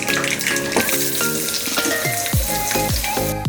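Chopped onion goes into hot oil where mustard seeds are already popping, setting off a loud, steady sizzle with sharp crackles and a few stirring scrapes near the pan.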